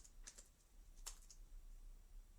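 A few quiet keystrokes on a computer keyboard, typing a command into a game's developer console, with two short bursts of clicks over a low background hum.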